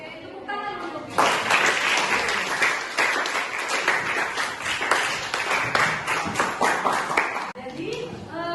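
A high school class in Sei Rampah bursts into loud, dense clapping after a short bit of talk, sustained for several seconds before fading, with a voice speaking again at the end.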